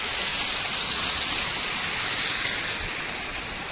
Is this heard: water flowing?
yes